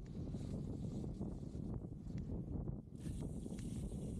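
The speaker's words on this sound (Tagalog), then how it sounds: "Ditong mahangin na part na to kasi sobrang hangin niya talaga." Strong wind buffets the microphone in a steady, loud roar that stays broadband and continuous, dipping only briefly before surging again, with no voices over it.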